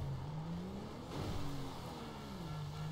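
A highway patrol Crown Victoria police car in the GTA V LSPDFR police mod revs and surges as it is whipped around. The engine drone rises and falls continuously over steady road noise.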